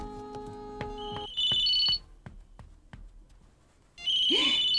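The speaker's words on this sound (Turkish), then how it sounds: "Telefon mu çalıyor? Babamın telefonu anne." A telephone rings indoors at home, electronic ringing tones sounding in repeated bursts with short pauses between, loud and close with no one talking over it.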